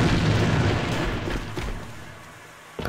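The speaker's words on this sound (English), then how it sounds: "Look at all the nades there." Grenades explode in the online shooter Alliance of Valiant Arms, a loud, heavy rumbling boom that rolls on and slowly fades, with a small sharp pop at the very end.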